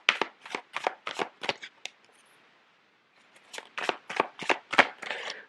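Tarot cards being shuffled by hand, two bursts of crisp riffling flicks close up, separated by a short quiet pause.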